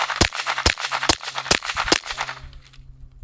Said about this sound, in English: We're just gonna go ahead and demonstrate it with some 124 grain supersonic ammo from Staccato.